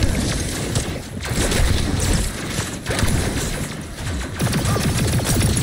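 Explosions and gunfire from the video game High on Life form a dense, continuous roar with rapid crackling impacts and bursts throughout, loud and without speech.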